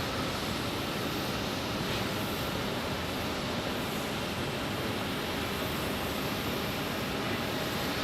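A Southwest Airlines Boeing 737-700 arrives at Phoenix Sky Harbor, heard as a steady, dense jet roar that holds evenly for the whole stretch, with no voices.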